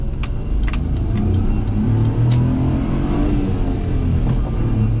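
Daihatsu Hijet kei truck with a small engine revving hard and holding a steady, strained drone through a gear change, heard close from inside the cab with a few light rattles and no talking.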